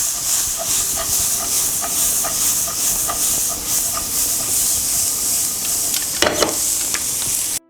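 Corn, carrot and capsicum sizzle and hiss steadily in oil as they are stir-fried for egg fried rice. Spatula clicks and scrapes tick through the frying, with a louder clatter near the end.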